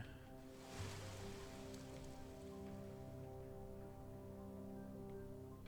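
Rain in the city-building game SolSeraph makes a quiet, even hiss that starts with a brief swell and then settles into a steady wash over sustained tonal music.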